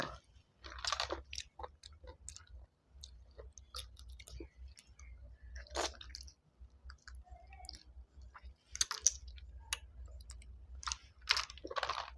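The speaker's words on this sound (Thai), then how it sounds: "ก็มากินหอยแครงหอยนางรม" Someone eats cockles and oysters, with close, wet chewing, lip smacks and small crunchy clicks coming in irregular bursts with short quiet gaps.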